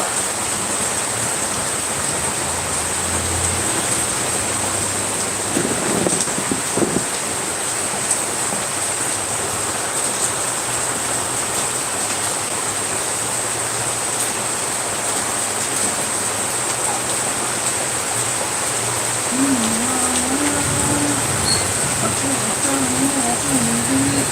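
Heavy rain pours down in a dense, constant hiss throughout, with faint voices briefly audible beneath the downpour.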